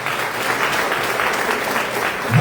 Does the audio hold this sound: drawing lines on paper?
no